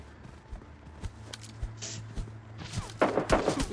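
Gunfire in the mobile battle-royale game PUBG Mobile Lite crackles in rapid bursts, growing denser and louder toward the end over steady game background noise.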